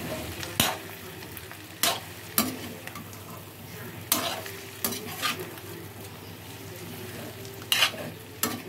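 Chicken pieces frying in a pan for fried piece biryani, a steady sizzle broken by sharp scraping stirs of a spatula against the pan at irregular intervals, close and clear with no talk.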